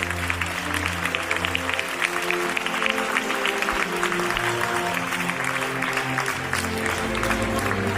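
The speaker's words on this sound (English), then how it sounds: "Please give a huge round of applause as they walk holding our flags." A school audience at a Grade 10 and 12 Blessings Day claps steadily as students walk carrying flags, broad continuous applause throughout with faint music underneath.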